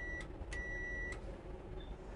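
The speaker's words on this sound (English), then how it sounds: "give the driver the ready to start signal on the bell or buzzer." A railway guard's bell or buzzer gives two rings as the ready-to-start signal to the driver: a short electronic tone, then a longer one, faint against a steady background hum.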